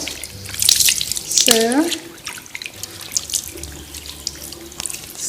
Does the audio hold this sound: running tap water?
yes